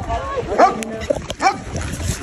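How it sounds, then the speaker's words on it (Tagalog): A dog barks and yips in a few short, strained bursts amid outdoor background noise and some voice-like sounds, fairly close. "the other dog did bark."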